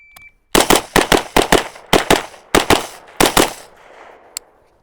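Pistol shots from a shooting drill on a target: about a dozen loud, close gunshots fired in quick pairs and bursts with short pauses between, then a single faint click after the string ends.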